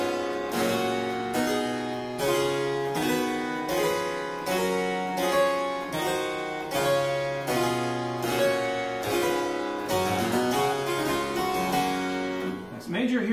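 A keyboard plays the rule of the octave, a major bass scale harmonized with chords, as a steady sequence of evenly spaced sustained chords stepping up and then back down, clear and unaccompanied.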